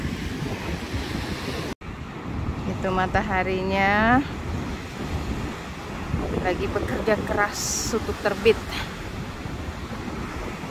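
Strong wind buffeting the microphone over the steady wash of ocean surf on a beach, a continuous rushing roar under someone speaking.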